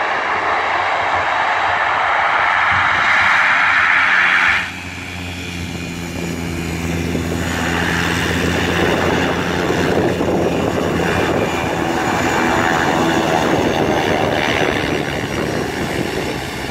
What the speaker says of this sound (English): so you might want to see the plane in action